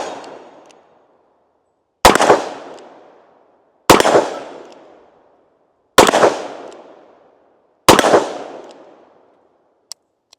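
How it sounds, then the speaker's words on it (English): Four loud, sharp shots from a Smith and Wesson Model 19 revolver fired single action, evenly spaced about two seconds apart, each ringing out with a long decaying echo, followed by a couple of faint metallic clicks. "Let's go ahead and hit a little bit in that single action."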